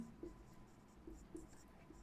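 Chalk or marker writing a sequence definition on a board in a maths class, with faint, light strokes sounding intermittently and softly in the background.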